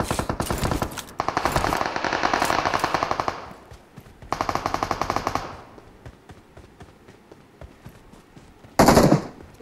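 Rapid automatic gunfire from an online shooter game comes in long loud bursts with short pauses, then a quieter stretch of scattered shots and a final sharp burst.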